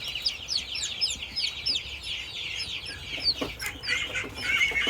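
Bantam chickens cluck continuously and fairly quietly, with overlapping chirpy calls and soft clucks from several birds over a light background hiss.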